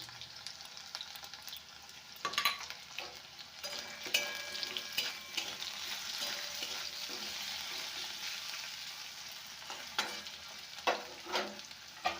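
Ginger and green chili frying in a pan with mixed vegetables, a steady soft sizzle with occasional stirring clatter and scrapes, fairly quiet and close, no talking.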